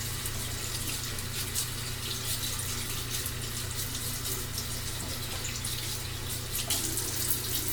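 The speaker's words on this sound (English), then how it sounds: "I'm gonna go ahead and rinse this off" Water runs steadily from a faucet into a sink while someone rinses off their face, a continuous close splashing hiss with small irregular splatters throughout.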